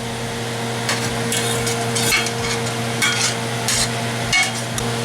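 Spices are stirred into chili con carne in a pan: a spoon gives repeated scraping strokes and a couple of dull knocks over a low, steady sizzle and a faint background hum.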